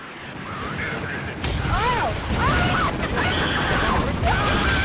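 The Sherman Calliope rocket artillery tank in Road to Valor WWII fires a steady, dense barrage of rocket blasts and rumbling explosions, with swooping whistles rising and falling over the din.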